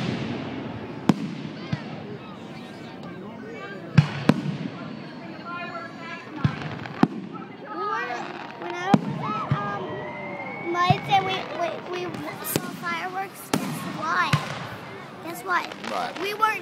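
Fireworks explode outdoors in scattered sharp bangs, some distant and some louder, while children and adults talk and chatter throughout.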